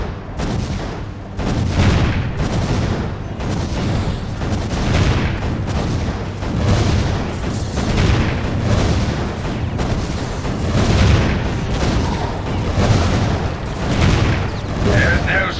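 Cannon fire in the Defense Grid tower defense video game: heavy booms repeating roughly every second or so, layered over a constant rumble, with voices talking faintly underneath.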